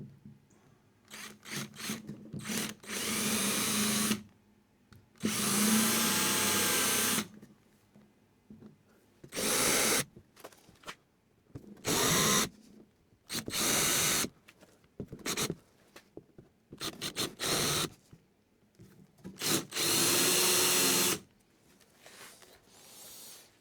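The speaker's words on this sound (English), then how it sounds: "countersink them now." A power drill countersinks screw holes in plywood boat planks for a small rowing tender. It makes repeated loud, close bursts of whirring and grinding, each a second or two long, separated by quiet pauses.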